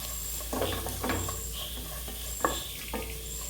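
Chopped green chilies are stirred into kadai chicken in a hot pan: a soft, low sizzle broken by a few scraping spoon strokes and one sharp tap, quiet and close with no speech.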